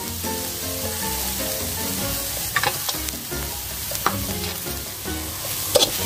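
Chilies sizzle and fry in a hot pan for a Thai mackerel chili paste, a steady loud crackling hiss with a few sharper spatters and stirring clinks scattered through it.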